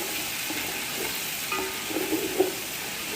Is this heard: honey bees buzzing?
no